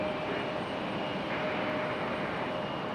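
A steady broadband roar from an airliner in Boston Celtics livery at Raleigh Durham airport, its engines holding an even, continuous level throughout with no talk.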